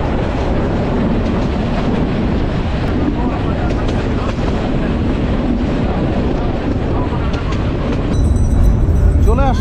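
The Burimari commuter train runs through fog toward Patgram, a loud, dense, continuous roar of wheels and carriage noise that is close and even throughout.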